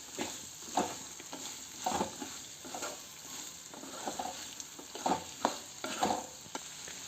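Garlic sautés in a pan for garlic pickle. Irregular stirring scrapes and knocks sound over a soft, steady frying hiss at close range, with no talking.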